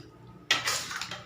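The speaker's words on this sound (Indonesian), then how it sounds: "tahunya boleh kita campur juga dengan tubisnya sewaktu dalam wajan begini ya" Tofu stirred into tubis in a wok, heard as a sudden scraping clatter of a utensil against the metal pan followed by a rough sizzling shuffle, close and fairly loud.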